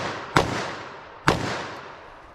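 Two sharp, loud gunshots from a .357 Magnum revolver crack out about a second apart, each followed by a fading echo.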